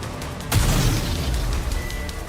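Homemade explosives go off in the Nikke video game, a sudden loud boom that gives way to a rumbling, sustained roar lasting a couple of seconds.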